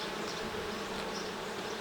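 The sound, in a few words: honeybees at an alpine beehive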